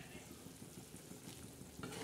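Chicken curry bubbles and sizzles gently in a pan, a faint, steady crackle of simmering with a soft rhythmic patter throughout and no voices.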